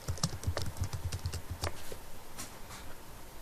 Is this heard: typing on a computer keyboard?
yes